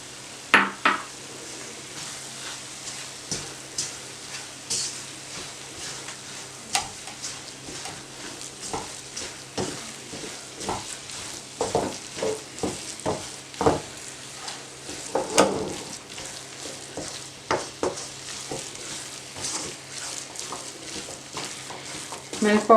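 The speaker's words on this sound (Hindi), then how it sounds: "मिल्क पाउडर डाल के मैंने इसको चंद सेकंड के लिए पका लिया।" Gajar barfi mixture of grated carrot and milk powder cooking in a pan, with soft sizzling and repeated scraping and stirring strokes of a spoon against the metal, close and irregular.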